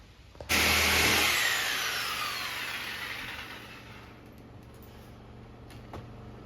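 A power tool cuts out a steel roll cage bar on a 1963 Studebaker Lark, starting with a sudden loud harsh whine that fades as the tool spins down over several seconds, close and with no talk.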